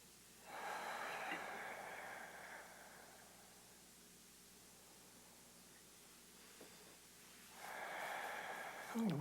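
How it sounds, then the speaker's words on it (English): Slow, deep breaths during a yoga session: a long airy inhale and exhale, a quiet pause, then another full breath, soft and close against a faint hiss. "Breathing into your right ribs."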